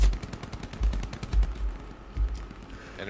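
Gunfire in the WW2 shooter game Hell Let Loose, a rapid automatic burst followed by several heavy thudding shots and scattered fire, loud and close, with no talking.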